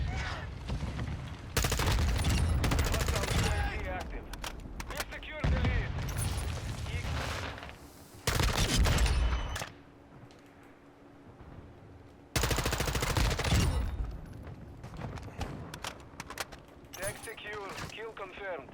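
Rapid automatic gunfire from an overpowered weapon in Call of Duty: Modern Warfare 2, dense bursts of shots in several long loud volleys separated by quieter gaps, with voices occasionally talking over the action.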